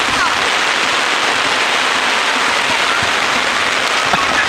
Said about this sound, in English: It's raining so hard we're leaking in the umbrella.